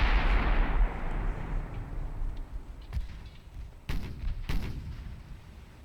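Secondary guns on a battleship in the naval video game Ultimate Admiral Dreadnoughts fire three sharp, booming shots spaced a second or so apart over a low rumbling background.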